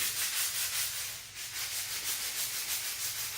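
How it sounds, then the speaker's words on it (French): A brush scrubs around tile joints to clean off adhesive, a soft steady rhythmic rubbing and scraping at close range with no voices. "je prends la brosse, je frotte tout autour pour que ce soit bien"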